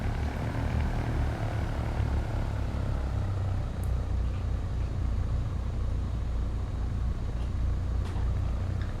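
A Cessna 152 taxiing at low throttle, its small propeller engine a steady, close, droning rumble that holds evenly throughout with no talk over it.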